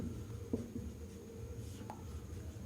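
Chalk or marker strokes on a classroom board as a formula is written during a maths lecture on rectangle area, steady scratchy scraping with a few sharper taps, close and continuous, no talking.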